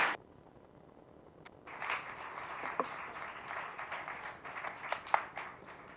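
An audience at a cultural and social inclusion event breaks into faint, distant applause that starts after a short pause and continues as scattered crackling claps.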